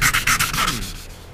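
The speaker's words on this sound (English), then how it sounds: "the sanding session has come to a close" Hand sanding along the edges of a Subaru WRX trunk lid, a few quick rasping strokes in a row, close and fairly loud, with no voices.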